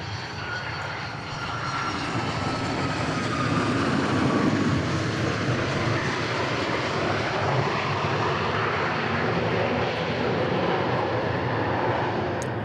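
A plane lands on runway 13 left at Dallas Love Field, its engine roar swelling and holding as a broad, steady rumble at a moderate distance throughout.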